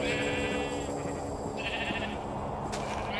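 Sheep bleat in Minecraft, with several short wavering bleats close together over a steady background.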